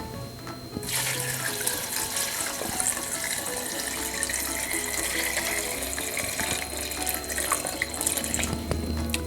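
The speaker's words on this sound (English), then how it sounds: "Now I'm going to add water to it." Water streaming from a tap into a pot of dried hibiscus petals, a steady rushing pour that starts abruptly and continues close and even throughout.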